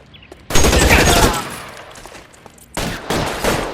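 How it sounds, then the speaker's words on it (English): Bursts of gunfire crackle through an L.A. Noire shootout: a loud volley of rapid shots for about a second, a lull, then two more close, sharp bursts. "Suppressing fire!"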